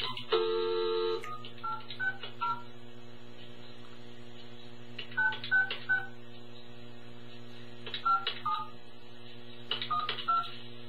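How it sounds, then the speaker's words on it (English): Telephone keypad tones beep in several short bursts of rapid digits, separated by pauses, over a steady low mains hum on a quiet phone line. "Dial 1 when calling this number."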